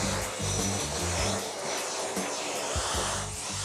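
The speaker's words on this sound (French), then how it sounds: "je lui passe un petit coup d'aspirateur" A vacuum cleaner runs while grooming a cat's fur, a steady whooshing motor drone with slight shifts in pitch as the nozzle moves, close and continuous.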